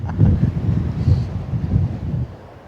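Strong wind buffets a microphone on Balmedie Beach in Aberdeenshire, a steady rough roar that gusts and surges, with a low rumble throughout and no talk.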